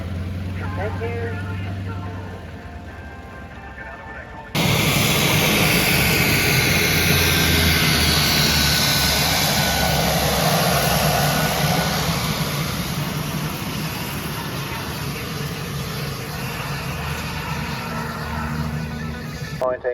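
A Yak 50 and a Yak 52 pass at the Tyabb airshow. Their loud, broad engine roar surges in abruptly after a quieter start and holds steady, with announcer talk over it.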